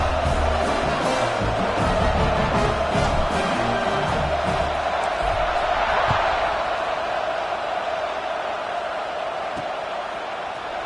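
Large stadium crowd at an American football game roars steadily as teams line up for the kickoff, a dense continuous wall of cheering that slowly eases, with a commentator's voice over it.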